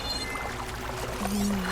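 Water swirls and churns steadily as a character swims in Horizon Forbidden West, a close, continuous watery wash with no talking.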